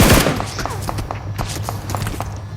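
Rapid gunfire in the mobile battle royale game PUBG Mobile, a steady run of sharp shots at an even rhythm with a low rumbling game bed underneath, fairly close and loud throughout.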